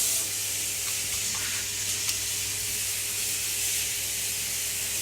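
Noodles cooking in a pan give a continuous loud hissing sizzle, steady and close, with faint clinks in the background and no talk.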